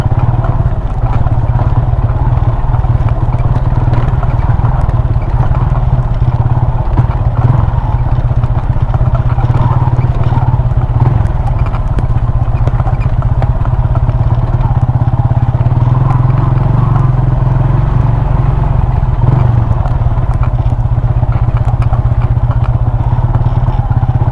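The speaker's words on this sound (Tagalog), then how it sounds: "Pero anad mo na itong motor sa ingon ani nga dalan." A motorcycle rides along a rough, muddy road in Bukidnon, its engine making a steady, loud, close drone with clattering and thumps from the bumpy surface throughout.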